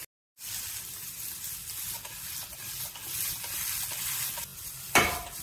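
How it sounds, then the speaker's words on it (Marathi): Paneer shallow-frying in a pan with ghee, a steady close sizzle with stirring and scraping, briefly silent at the start, then a louder hissing flare near the end. "थोडंसं आपण आता शॅलो फ्राय करून घेऊया।"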